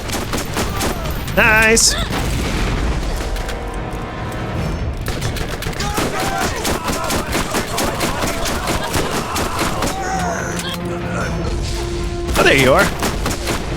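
Rapid gunfire from the Borderlands video game as Lilith, near and loud throughout, running continuously with brief sharper bursts near the start and end while a player talks over it.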